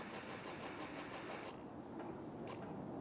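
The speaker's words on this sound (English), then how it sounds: "Now, it is pulsing here because there is a leak here." A small electric water pump on an aquaculture flow-through raceway system pulses because of a leak, giving a rapid, steady mechanical chatter close by, with a faint high hiss that drops out midway.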